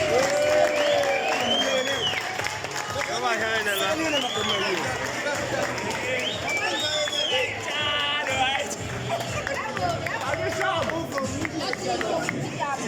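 Applause and cheering from an audience at a school gala, steady and lively throughout, mixed with a crowd of overlapping voices and shouts.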